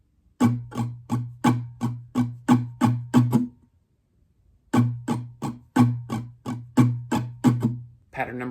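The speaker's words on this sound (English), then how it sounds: "Pattern number 3 is again similar and should sound like this." Up close, an acoustic guitar plays a steady strumming pattern of about ten even strums for a song (live version), goes quiet briefly, then repeats the pattern, each strum ringing into the next with no voice over it.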